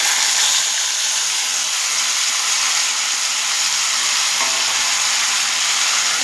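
Boiled broad bean pieces fry in a pan with a steady, loud, close sizzle and hiss that runs unbroken throughout, with no voices.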